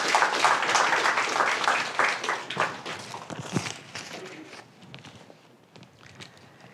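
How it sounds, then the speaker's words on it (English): Applause greets panelists taking the stage at a startup-founder event, loud and full at first, then thinning into scattered claps and fading out, with footsteps and shuffling close by. "Please give a big round of applause for the panelists."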